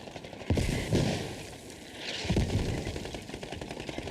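Mortar rounds land in a barrage during a competitive Squad match, with two or three deep, booming impacts and rumbling blasts in quick succession under continuous background game noise.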